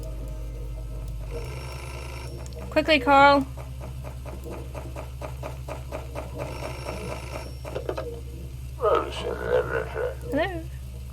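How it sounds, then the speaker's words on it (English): Telephone ringing in the Beholder video game, a couple of short electronic ring bursts over a low steady hum, with a voice talking in between. "Oh, that's the phone."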